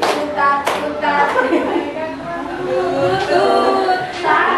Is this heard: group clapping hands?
yes